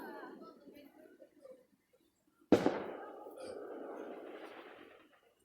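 A single loud firework blast goes off nearby in a residential neighborhood on the Fourth of July, following quieter talk, with crackling and lingering rumble afterward as voices continue beneath.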